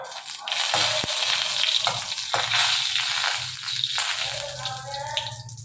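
Dried red chilli sizzling in hot oil while tempering dal, a steady bright crackle and hiss that carries on throughout, close by, with faint background sounds.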